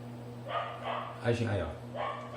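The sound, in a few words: neighbour's dog barking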